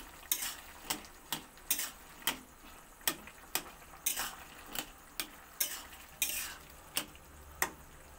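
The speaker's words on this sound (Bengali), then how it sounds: "একটু খুন্তি দিয়ে আলুগুলোকে কেটে নেব এরকম করে।" A metal spatula chops boiled potatoes in a pan for an egg and potato-poppy-seed dish, giving about a dozen sharp, evenly spaced scraping taps with quiet gaps between them and no voices.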